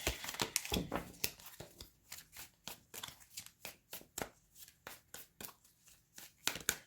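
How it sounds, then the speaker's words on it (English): Oracle cards are shuffled and pulled, producing a rapid run of close, crisp riffling snaps and flutters in quick succession, with no talk. "Let me pull another card to clarify."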